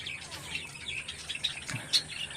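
Budgerigars chirping in a breeding colony of twelve pairs, with faint scattered high tweets and short calls spread through the clip and one brief sharper chirp near the end, distant and quiet.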